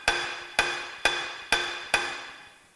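An alloy punch is tapped against the rear axle of a Massey Ferguson 135 6-speed tractor during bearing adjustment, five crisp, ringing metallic strikes at a steady pace, close and alone.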